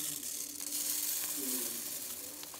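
Jasmine rice in olive oil in a hot pan, giving a faint, steady hiss of frying with a few soft scraping touches, close by and without any talking.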